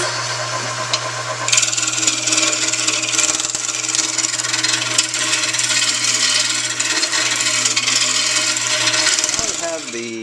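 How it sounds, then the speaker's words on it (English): Hard wood spinning on a lathe as it is roughed out into a round shape, a steady continuous scraping rasp with a constant low motor hum underneath, loud and close, winding down near the end. "I've cut the wood down, got it on the lathe, and I'm trying to get it into a nice circular shape."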